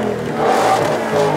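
Ford Mustang engine revving at a supercar demo sound-off, a loud, short burst of throaty engine roar that swells and holds briefly.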